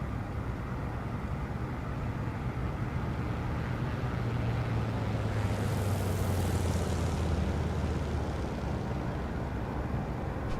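Aircraft taxiing toward the runway in Microsoft Flight Simulator, a steady low engine drone and propeller hum with a slowly falling tone, moderately loud and continuous for about ten seconds.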